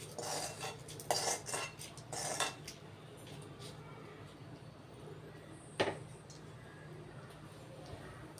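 A metal spoon clinks and scrapes against a pot as a tempering is stirred into cooked ridge gourd dal. Several quick clattering knocks come first, then a quieter stretch and one more sharp clink, and a voice talks underneath.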